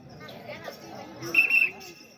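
A whistle blows in a short shrill burst near the end during a village stage comedy drama performance, sounding over chatter and crowd noise.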